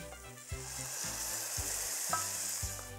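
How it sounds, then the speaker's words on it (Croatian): Braised cabbage starting to fry in a pan once its liquid has cooked off, giving a steady close sizzle with crackling spatters and a low rhythmic thumping underneath, no voices. "Kupus se dinsta, sva tekućina je isparila. Sad sam već počinje lagano pržiti"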